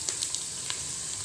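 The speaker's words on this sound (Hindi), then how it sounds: "ये प्याज ब्राउन हो रहा है" Onions browning in a pan give a steady frying sizzle close by, with a few soft pops and spatters crackling through the hiss, no voices.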